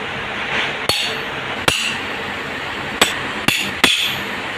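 Five light, sharp hammer taps ring out at irregular intervals on an 8 mm tommy bar, driving a gear (garari) into place during a meter sprocket installation, each strike crisp and close with a metallic clink.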